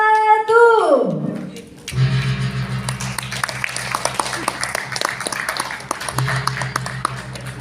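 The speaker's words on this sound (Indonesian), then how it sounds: "Sekali lagi kita berikan tepuk tangan yang paling meriah" Applause at the launch ceremony of a digital literacy program: after a fading tonal swoop, a steady burst of crowd clapping starts and carries on under a low hum, with occasional voices over it.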